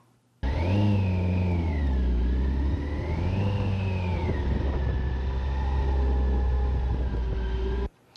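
A motorcycle runs at about 10 mph through slow turns in a six-cone offset weave, its engine a loud, continuous hum that swells and eases with the throttle for about seven seconds, cutting in and out abruptly.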